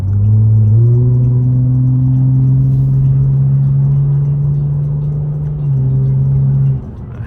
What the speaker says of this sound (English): let's hear a little bit of this Borla exhaust